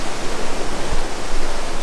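A mountain stream rushes along a trekking trail toward Shey Phoksundo in Dolpa, its loud, continuous, even roar of flowing water heard close and alone.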